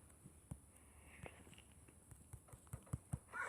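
Horse hooves clip-clopping in a video game, faint scattered thuds that grow into a short, louder run of hoofbeats near the end.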